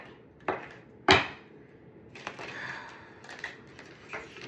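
Tarot cards are shuffled with a few sharp riffling snaps and lighter papery taps, close and quiet, in irregular bursts.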